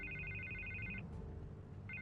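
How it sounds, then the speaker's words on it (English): A telephone rings in the Batman Telltale video game with a bright electronic trill. One burst lasts about a second, a short gap follows, and a second burst begins, all over a quiet low ambient hum. "I can't get the phone to stop ringing."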